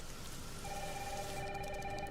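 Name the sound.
heavy rain in Resident Evil 9 trailer, video game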